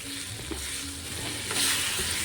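Alu vadi pieces are gently mixed into a hot tempering in a pan, a soft steady sizzle with faint scraping stirs close by and no talking.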